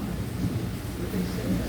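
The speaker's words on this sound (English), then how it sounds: "good evening from beautiful sunny Mazatlan where we're actually having a thunder shower" Thunder shower in Mazatlan, a steady low rumble of thunder blended with the hiss of falling rain, loud and continuous throughout.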